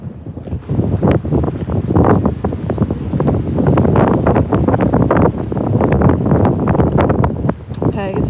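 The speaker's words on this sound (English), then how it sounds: "Okay, it's very windy." Strong wind at Sydney Harbour buffets the microphone in a loud, continuous, gusty roar that covers almost the whole stretch and drops away only briefly near the end.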